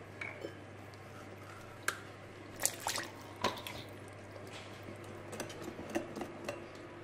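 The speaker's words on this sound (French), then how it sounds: "On commence à mélanger un peu. Et on va rajouter le lait au fur et à mesure." Far breton batter being mixed with beaten eggs as milk is poured in gradually, heard as soft, scattered drips, squishes and light clinks of a utensil against a bowl, fairly quiet and close.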